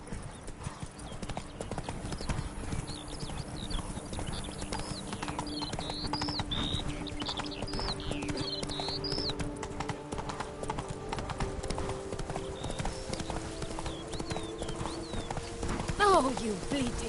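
Roach the horse gallops in Witcher 3, close hoofbeats drumming in a fast, continuous rhythm, with birds chirping faintly overhead and a voice speaking over the ride.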